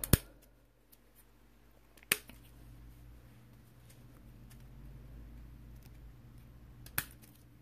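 Scissors snip through the ends of deco mesh with a few sharp, isolated clicks spread apart over quiet rustling, and no talking.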